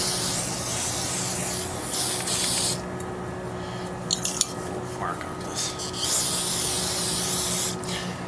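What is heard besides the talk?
aerosol spray can spraying carburetor floats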